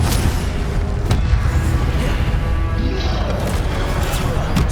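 Incendio fire spell cast during combat in Hogwarts Legacy, loud booming crashes and bursts over a dense rumbling battle din, with a few sharp hits.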